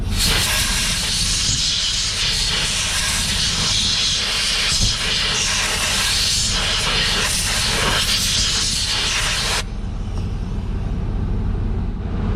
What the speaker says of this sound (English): I'm going to spray a bit of compressed air in here just to get some of the dust and whatnot out of the areas where the bushings are going to go